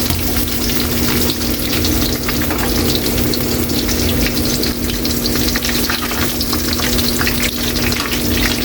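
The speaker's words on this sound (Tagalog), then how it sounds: "para mag-umpisa na tayong mag-gigisa sa ating sangkap" Ingredients are sautéed in oil in a pan, producing a loud, dense, unbroken sizzle close up that fills the whole stretch.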